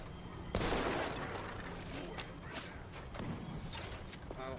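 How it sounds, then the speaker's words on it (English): Gunfire aimed at the player in the video game Mouse: P.I. opens with a sharp loud blast, then rattling mechanical clatter and scattered shots continue under a busy game soundscape. "What the heck's shooting at me?"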